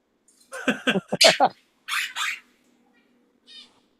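A pet parrot in a live studio room lets out a rapid cluster of harsh, close squawks, then two raspy shrieks and one faint final call, with quiet gaps between bursts.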